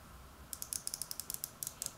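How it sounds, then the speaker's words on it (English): A micrometer's ratchet thimble clicks as it closes on a gauge pin, a quiet run of about a dozen sharp, evenly spaced ticks beginning partway through, close up and alone with no talk. "I'm going to measure this gauge pin real quick to make sure that the caliper, the micrometer is reading properly"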